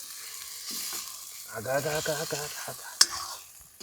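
Egg curry masala sizzling in a pan at a village home, a steady frying hiss with stirring scrapes and a sharp clack near the end, while a voice talks over it partway through.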